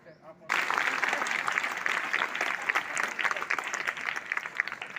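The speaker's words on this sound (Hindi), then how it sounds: "पूरा विद्यालय प्रांगण तालियों से गूंज रहा है।" A school audience in an outdoor courtyard claps for a prize distribution. The dense applause bursts in after a short quiet opening and continues steadily, with a voice faintly under it.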